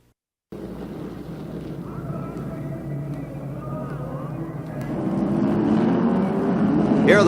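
1965 NASCAR Grand National stock cars at the Southern 500 in Darlington, South Carolina: a broad roaring engine din from a distant crowd of cars, steady and then swelling louder toward the end.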